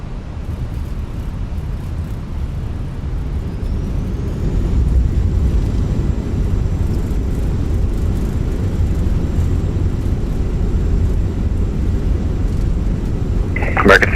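An airliner on a Charlotte flight rolls out after touchdown with a steady, loud low roar of engine and airframe noise throughout, and a brief click near the end.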